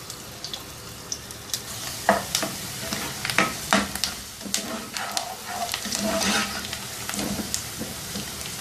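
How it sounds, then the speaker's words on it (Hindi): Chopped onions frying in oil in a pan over medium heat, a continuous sizzle broken by frequent scraping and clattering stirs of a utensil against the pan. "सबसे पहले इसमें अनियन डाल के अनियन को फ्राई करेंगे 2 मिनट"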